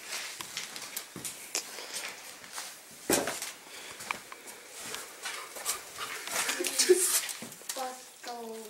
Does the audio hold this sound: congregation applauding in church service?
no